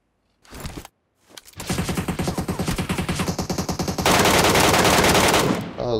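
Automatic gunfire in the mobile game PUBG Metro Royale, a brief burst followed by a long rapid stream of shots, loud and close, growing denser and harsher toward the end.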